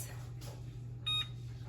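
An oven timer being set while baking chocolate chip cookies gives one short, faint electronic beep partway through, over a low steady hum in a quiet kitchen.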